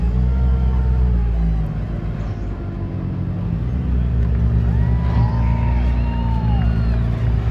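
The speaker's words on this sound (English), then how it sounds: "sounds like Braxton Coleman finishing the Behemoth Course A1 over there in his Pro Modified car" A Pro Modified rock crawler finishes Behemoth Course A1 at a WE Rock West competition round in Cedar City, Utah, its engine a low, steady rumble with faint voices and a crowd in the distance.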